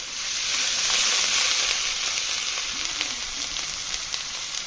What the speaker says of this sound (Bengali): প্রথম পেঁয়াজ বাটা, রসুন বাটা দিয়ে দেবো